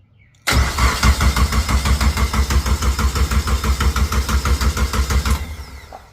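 A Honda K24A2 engine in an EG hatch cranking on the starter to prime oil, a loud, close, steady rhythmic churning that starts abruptly and runs for about five seconds without firing before tapering off; no talking.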